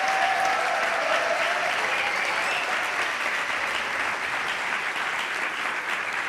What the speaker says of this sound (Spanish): Y un aplauso que siga para Andrés Llena, que está aquí con todos v